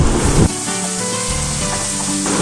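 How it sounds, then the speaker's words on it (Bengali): Blended spice paste for a silver carp fish curry sautéing in a pan, a steady broadband sizzle that runs the whole time, with faint tonal background sound layered over it. "এবার ভালো মতো মশলাগুলোকে কষাতে হবে।"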